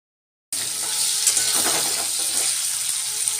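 Food in a pan breaks into a loud, close sizzle after a brief silence, then holds as a steady hiss and crackle with occasional small pops and scraping clinks.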